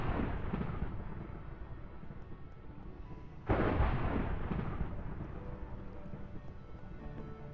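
Thunder from a rainless thunderstorm in the video game Minecraft, a low rolling rumble that swells into a sudden louder crack midway and then fades, heavy and booming with no rain or talk.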